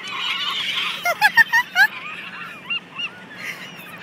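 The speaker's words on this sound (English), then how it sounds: "all the seagulls on the beach" Seagulls on a beach cry over a steady wash of wind or surf, with a quick run of four or five sharp calls in the middle and a few softer, more distant cries afterward.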